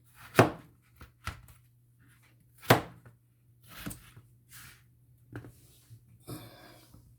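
A dull kitchen knife chops on a board while saltfish balls are prepared: a handful of separate, fairly loud chops with irregular pauses, some sharper than others, and no talking.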